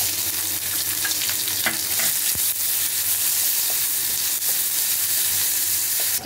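Onions frying in hot oil with whole cumin, a dried red chilli and a bay leaf give off a steady, loud, dense sizzle. A few clinks of utensils and stirring scrapes break through, and no one speaks.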